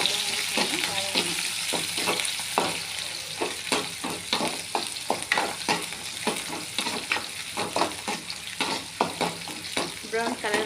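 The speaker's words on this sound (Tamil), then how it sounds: "வெங்காயம் போட்டு நல்லா வதக்கணும்." Onions sautéing in a pan for a restaurant-style chicken curry, a steady close sizzle broken by repeated sharp scrapes and stirring strokes of a spatula against the pan.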